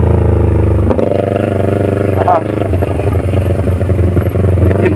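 A highway motorcycle engine rumbles up close on open flat ranch land in Impasugong, Bukidnon, loud and throbbing with rattling clatter and brief dips in revs.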